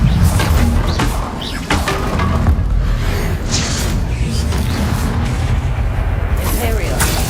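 Spell explosions and booming blasts from combat in the video game Hogwarts Legacy, loud and dense over a constant game soundscape, with a voice speaking during the action.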